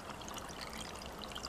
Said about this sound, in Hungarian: és ha fölöntöm vízzel